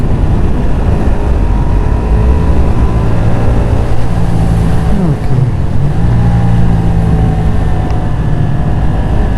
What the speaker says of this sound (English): The engine note just encourages you on, it's so throaty.